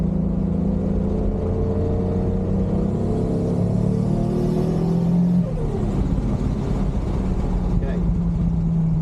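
Toyota Supra engine revs hard through a tuning pull, a loud, close, continuous roar climbing in pitch and then easing back, with the drone steady throughout.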